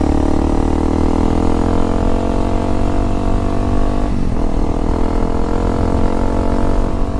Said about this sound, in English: 4th gear definitely feels like it's pulling harder up in that area.